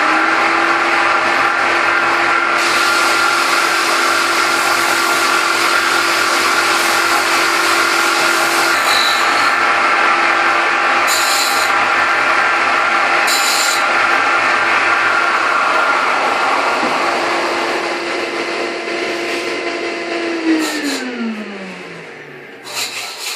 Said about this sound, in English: I'm just going to finish sanding this one off, and then basically it's ready for some kind of finish